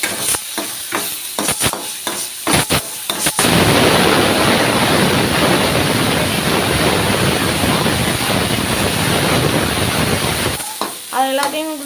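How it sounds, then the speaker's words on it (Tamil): Ginger garlic paste sautéing loudly in a hot pan, a dense continuous sizzle lasting most of the stretch, framed by a few stirring clatters at the start and faint sounds at the end. "இஞ்சி பூண்டு விழுது போட்டு நல்லா வதக்கிக்கலாம்."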